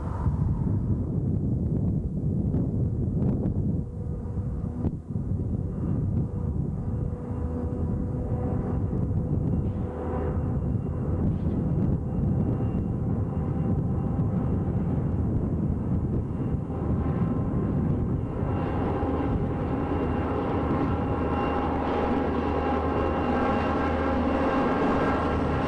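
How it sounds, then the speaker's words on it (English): A BNSF freight train led by a Burlington Northern locomotive descends through a canyon, giving a steady, loud rumble with engine drone throughout and a rising horn-like tone toward the end, plus some wind noise. "Here we see a train heading down into the canyon with a Burlington Northern unit on the point."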